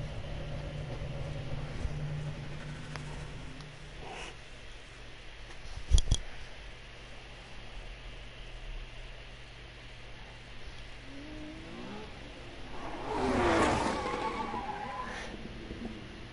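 A car drives down a street in The Crew racing game, its engine a steady low drone with a single sharp thump midway and a short burst of tire squeal near the end; no one speaks.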